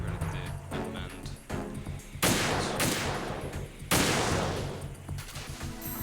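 PSG1 sniper rifle shots in the video game Metal Gear Solid 2, two loud, sharp cracks a couple of seconds apart, each with a booming decay, over quieter game sounds.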